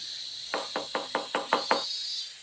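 Seven evenly spaced knocks on a wooden door, moderately loud and close, sounding alone over a steady high background hiss.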